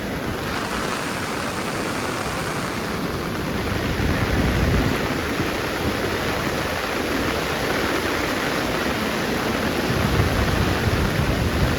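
The flooded Ulhas river after continuous rain, its water rushing in a loud, steady broadband roar that holds unbroken and close throughout.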